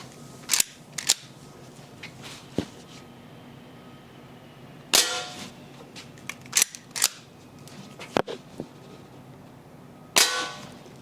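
An Umarex Winchester air rifle fires pellets in a run of sharp, loud cracks, each with a metallic clack, spaced unevenly over several seconds with quiet gaps between shots.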